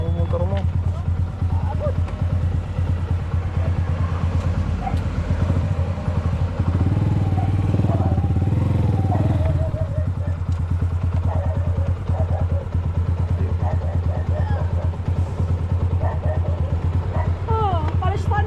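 A motorcycle engine idles and revs nearby, a continuous low rumble that swells in the middle, with voices talking over it.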